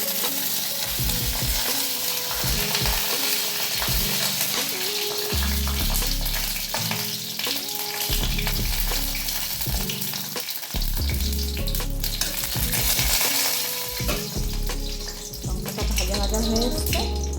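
Dried red chillies fry in a tablespoon of mustard oil, a steady crackling sizzle running throughout beneath louder background music with a rhythmic beat.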